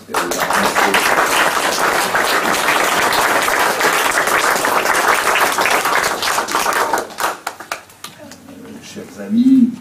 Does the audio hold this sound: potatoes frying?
no